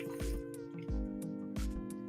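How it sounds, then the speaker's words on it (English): A person takes a few sips of water, close and wet, with gulping swallows and small slurps in a short uneven series, a faint tonal hum running underneath. "I need a sip of water"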